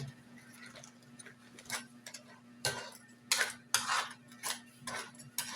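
A utensil stirs crab cooking in a pot, giving a series of clinks and scrapes against the pot over a low, steady hum, with no talking.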